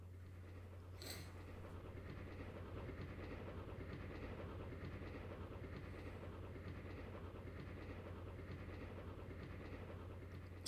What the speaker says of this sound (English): So, where's the train going?